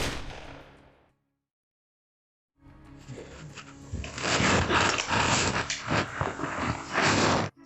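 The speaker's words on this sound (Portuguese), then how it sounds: "Jen tira uma arma da bolsa e atira em si mesma." Handgun shots ring out loud and sharp after a brief silence, a burst of harsh broadband bangs packed closely together over several seconds.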